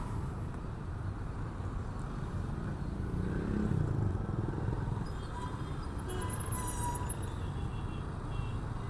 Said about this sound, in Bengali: রাস্তার মধ্যে যতগুলো বাইক তার চেয়ে বেশি ফুটপাথে